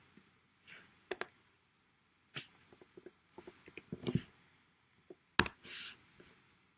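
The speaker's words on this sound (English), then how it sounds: "don't forget to type in the password" Keys tapped on a computer keyboard while entering a password: quiet, sparse clicks in small clusters with gaps between them, close and faint against near silence.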